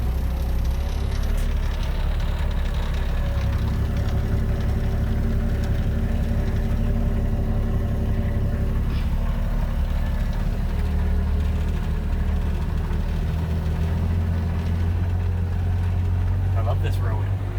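1976 Ford F250 4x4 highboy truck climbing a steep hill: a low, steady engine rumble under load, close and continuous, with cabin rattles and road noise and voices talking over it at times.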